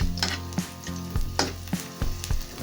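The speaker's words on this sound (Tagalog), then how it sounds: "Hintayin lang natin mag-brown yung ating bawang." Garlic fries and sizzles in a pan with a soft steady hiss, punctuated by frequent metallic spatula scrapes and knocks against the pan.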